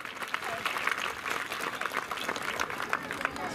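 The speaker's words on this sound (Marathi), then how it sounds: "सूत्रसंचालकासाठी एकदा टाळ्या वाजवा जोरदार" An audience at a public lecture claps loudly and continuously for the event's host, a dense, steady burst of applause with a voice faintly audible underneath.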